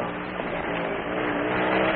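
Car engine revving hard at a race track pit, a loud close-up roar held steadily for two seconds with a slight rise toward the end.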